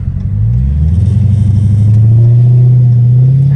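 A Dodge Challenger Hellcat Redeye engine blips and rumbles on a paddle-shift downshift, a loud, close, deep burbling roar that climbs in pitch and holds a throaty drone.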